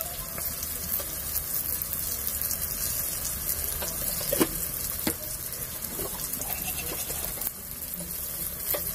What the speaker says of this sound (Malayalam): ഇപ്പൊ 4 ടീസ്പൂണ് മല്ലിപ്പൊടിയും കൂടെ ചേർത്തിട്ട് 2 ടീസ്പൂണ് മുളക് പൊടിയും കൂടെ ചേർക്കുക.